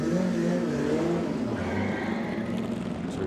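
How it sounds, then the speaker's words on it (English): Cooper Monaco race car with a 5-litre Maserati V8 at a hill climb, its engine a steady, loud roar throughout with a slight shift in pitch partway, as if driving past nearby. "Cooper Monaco, 5-litre V8 Maserati engine, appropriate for this weekend"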